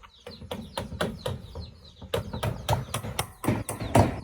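Rapid, repeated high chirps from several chicks, loud and close, continuing in quick bursts throughout, with roosters nearby, in the Philippines.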